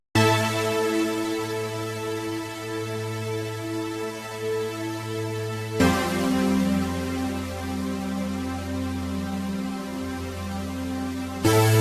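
A synthesizer chord sequence with filtering and saturation plays alone: sustained, harmonically rich chords that change abruptly at about six seconds, steady and loud throughout.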